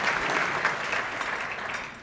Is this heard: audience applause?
yes